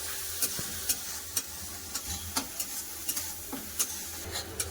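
Ginger garlic paste frying in a pan gives a soft, steady sizzle, with regular scrapes and light taps of a spoon against the pan as it is stirred, close and fairly quiet.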